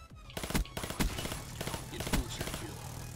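Short bursts of M16 rifle fire in Black Ops 3, a few sharp close shot clusters spaced across the moment over background game noise.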